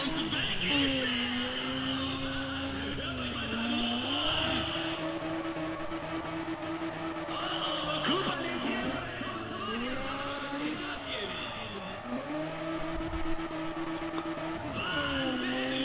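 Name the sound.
car drifting with tire squeal in Need for Speed ProStreet video game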